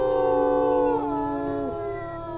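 Wolves in the WolfQuest video game howling: several sustained, layered tonal howls close together, voices bending and dropping in pitch as they overlap, with a steady low rumble of game ambience underneath.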